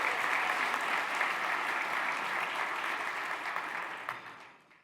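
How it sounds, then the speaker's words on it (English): A large crowd at a conference luncheon applauds steadily, a dense wash of clapping that holds for several seconds and then tapers off at the end. "Please join me in giving the host committee another well-deserved round of applause."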